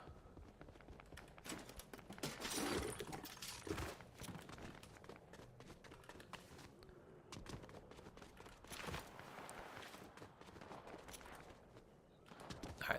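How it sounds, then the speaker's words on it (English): Distant gunfire crackles in a Fortnite Battle Royale match, scattered bursts of shots and rapid pops over a busy background, faint and far off rather than close by. "Where are these gunshots coming from?"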